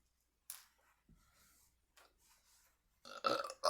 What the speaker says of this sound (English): Why'd you just burp like that without saying excuse me?